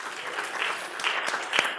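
Audience at a Skoll World Forum conference talk clapping, a steady, dense wash of applause lasting about two seconds.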